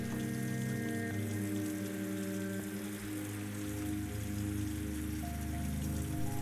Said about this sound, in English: Into the water it goes.